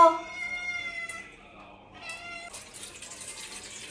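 A cat meows several times close by, with rising and falling cries, followed by a hissy splashing noise like running water.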